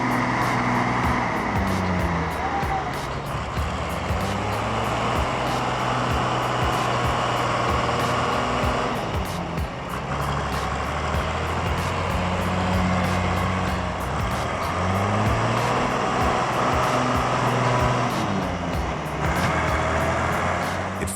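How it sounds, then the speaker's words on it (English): A John Deere tractor hauling a trailer full of grain labors stuck in a muddy rice field, its engine droning loud and steady with rising and falling revs as it strains continuously throughout, no voices. "A John Deere is stuck in a muddy rice field, struggling without success."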